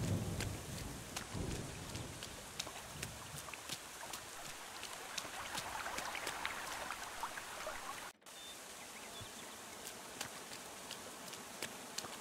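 Steady rain hisses in a life-sim video game, Garden Witch Life, with a low rumble of thunder early on, a brief dropout near the end, then the downpour resumes alone at a constant, fairly faint level.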